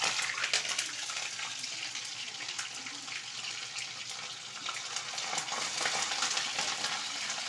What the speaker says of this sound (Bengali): তেলটা গরম হয়ে গেছে এখন চিকেনগুলো আমি তেলের মধ্যে দিয়ে দেবো